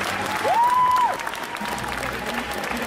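Audience at a cosplay contest on stage at an indoor festival applauds steadily for about a second and a half before it thins out. A faint tone rises and holds in the middle.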